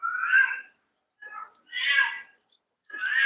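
A domestic cat meows repeatedly, three drawn-out close cries separated by short pauses, fairly loud and clear with no other sounds around them.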